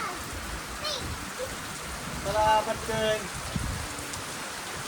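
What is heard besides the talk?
rain falling, first rain of the season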